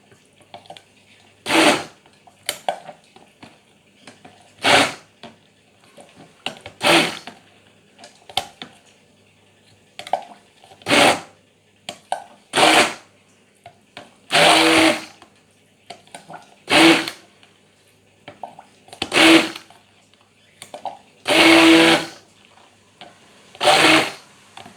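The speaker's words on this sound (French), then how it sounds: "un mixeur et je vais un petit peu mixer pour faire fondre tout ça" Electric hand mixer whirring in repeated short bursts as it blends melted soap base for homemade cold-process aloe vera soap, each burst a few seconds long with pauses between, close and fairly loud.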